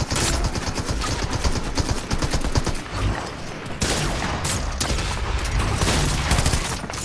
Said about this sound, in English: And you both shot at me